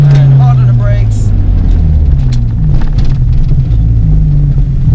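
A 415bhp Ford Focus ST with a forged engine pulls hard with a loud, close engine drone and falling revs, then brakes hard while the rumble continues throughout. Someone talks over the engine.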